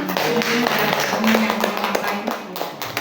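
An audience at a teachers' school presentation claps in a dense, steady wash of applause, with a voice talking over it and a few sharper taps standing out nearby.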